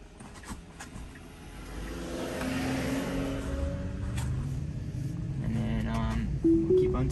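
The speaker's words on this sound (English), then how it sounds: "Oh, there's a car behind me." A car approaches from behind and drives past a Tesla on a steep hill road, its engine growing from a faint hum to a steady, closer rumble before fading, heard inside the cabin.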